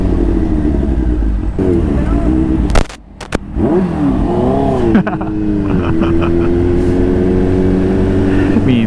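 A Kawasaki H2 motorcycle fitted with a Smart Boost engine revs loudly, its exhaust rising and falling in sustained bursts with a short dip near the middle, heard up close.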